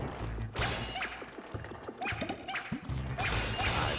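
Repeated crashing smacks of blocks being smashed in Super Mario 3D Land, a quick irregular run of hits over bouncy game music, with a louder crash at the start and another burst toward the end.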